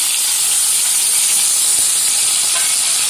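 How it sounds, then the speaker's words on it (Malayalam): Tomato and onion hitting a hot pan, a steady loud hiss of sizzling and steam that holds evenly throughout with no talking. "അപ്പോൾ നമ്മൾ തക്കാളിയും സവോള ഇട്ടിട്ട് കൊടുക്കുകയാണ്"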